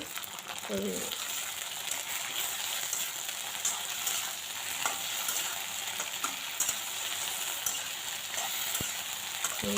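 Food seasoned with salt and turmeric sizzles in a pan while being stirred, a steady hiss with soft scraping throughout and a couple of faint clinks.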